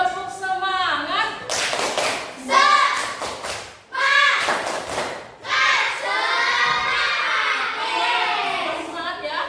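Schoolchildren in a classroom clap and shout a rhythmic class cheer chant together, loud and close, with bursts of claps and voices in unison and brief pauses between phrases.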